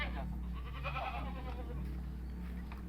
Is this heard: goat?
yes